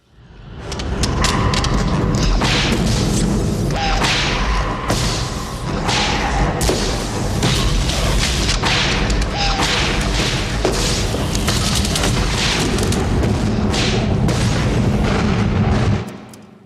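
Explosions from the 1987 film Predator come as a sustained barrage of loud booms, thuds and blasts, one after another over dense, rumbling noise for about fifteen seconds.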